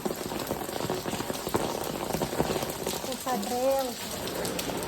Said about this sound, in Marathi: पाऊस पक्का पडतो.